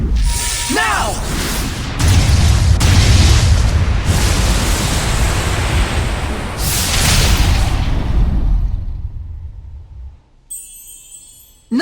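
In the Tales of Zestiria video game, a shot fires and explodes: heavy booming blasts with rumbling bursts rise for several seconds, then trail off into a brief lull before a final sharp hit.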